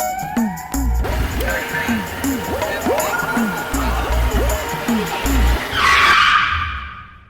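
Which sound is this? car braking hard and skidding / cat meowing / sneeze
car braking hard and skidding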